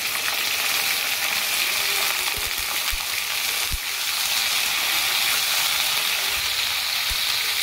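Slit green chillies and bottle gourd shoots fry in a pan with tomato, a loud steady sizzle and hiss punctuated by a few soft knocks of stirring.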